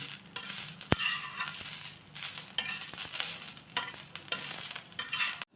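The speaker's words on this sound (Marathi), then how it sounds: "मी याच्यातच थोड्या लसणीच्या पाकळ्या टाकते ह्या आणि थोडा हलवून घेतून गॅस बंद करते" Steady sizzling of onion and garlic cloves frying in a pan, with scraping stirring strokes coming and going throughout; no voices.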